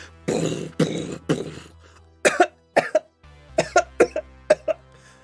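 A series of sharp coughs in irregular bursts, fairly close, some clustered in quick pairs, with quiet pauses between.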